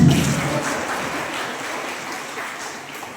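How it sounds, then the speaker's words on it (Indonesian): Steady crowd applause at a community talk on climate mitigation and social forestry held with a church congregation, a dense broadband patter that starts strongest and slowly fades over a few seconds. "Dan sama minta kita tepuk tangan untuk mama dong semua."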